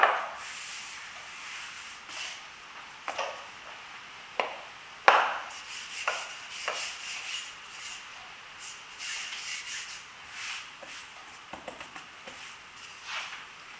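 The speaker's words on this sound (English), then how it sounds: "I roll quite thinly, 1-2 millimeters." A rolling pin works Christmas cookie dough thinly on a floured working surface, giving soft rubbing strokes with occasional light knocks, close and quiet, without talk.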